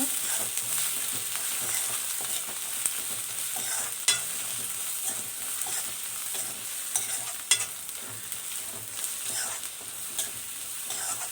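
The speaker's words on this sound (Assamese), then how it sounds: "এতিয়া মিলাই ল'ম, মছলাখন ঘুলি ল'ব লাগিব" A spice paste of meat masala and coriander is stirred in a hot pan while preparing a rohu fish curry, giving a steady low sizzle with soft scraping strokes and a few sharper clicks of the spoon against the pan.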